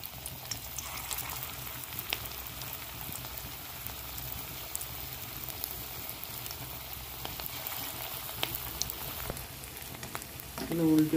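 Pea koftas for a Bengali koraishutir kofta curry fry in hot oil in a kadai, giving a steady close crackle and sizzle throughout with scattered pops, a louder burst at the very end, and no talk.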